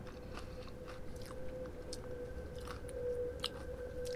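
Someone chews crunchy onion rings in a quiet room, producing faint, irregular crunching and biting sounds up close under a low steady hum.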